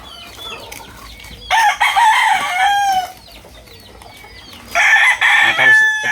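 Fighting roosters kept in pens, loud close crowing in two long bursts with clucking and softer calls between them.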